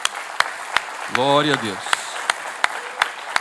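Sharp, evenly spaced handclaps ring out at a church service, keeping a steady beat, while a voice briefly speaks over them partway through.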